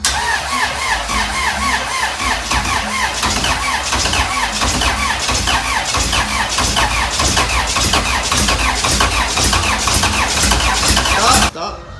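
Honda Civic engine cranking with a loud, rapid, rhythmic starter churn that keeps going for about eleven seconds, close to the car, then cuts off abruptly.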